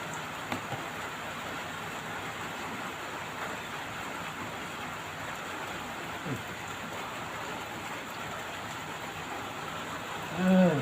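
Steady rain hisses down in a dense, even wash of noise, with no voices, just the constant patter continuing throughout.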